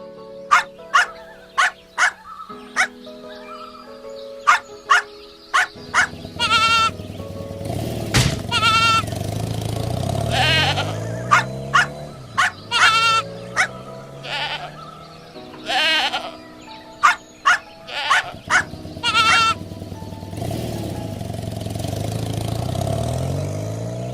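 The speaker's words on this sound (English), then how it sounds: "The baby goat is hurt." A goat bleats repeatedly in loud, close, wavering cries, mixed with sharp dog barks and other animal calls in a busy, lively sequence.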